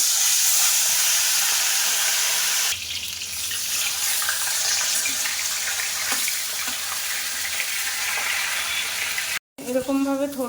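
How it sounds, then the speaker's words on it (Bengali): Fresh katla fish fries in hot oil in a wok with a loud, steady sizzling hiss that holds throughout, broken by one brief gap near the end, where a voice briefly joins. "তো চলো মাছটা ভেজে নিই"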